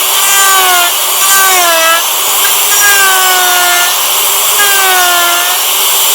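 A power tool cuts material away from a timber frame knee brace, set with a jig, in one loud continuous grinding run with a faint whining tone that rises and falls in repeated sweeps.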